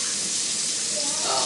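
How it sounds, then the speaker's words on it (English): Hot water gushes from a kitchen tap onto fresh strawberries, a steady rushing hiss that stays even throughout, with some talk faintly underneath. "I put hot water on them."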